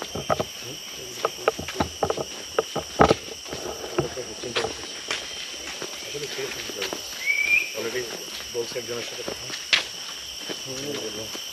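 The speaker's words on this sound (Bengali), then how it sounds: "ডাকটা সুন্দর না? পোকার ডাকি" Insects calling deep in a wild forest in Bangladesh, a dense layered chorus with a steady high drone, with scattered clicks and rustles over it and faint voices now and then.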